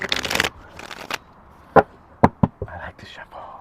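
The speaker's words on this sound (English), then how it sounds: "I like to shuffle. I like it when it shuffles well." Tarot cards are riffled and shuffled in a quick burst, followed by a few sharp taps and soft handling sounds, close up and fairly quiet.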